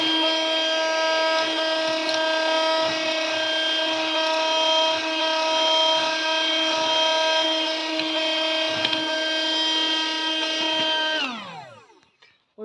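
A mini Henry desktop vacuum cleaner runs with a steady, strongly tonal whine, loud and close, for about eleven seconds, then powers down with a quick falling pitch into silence.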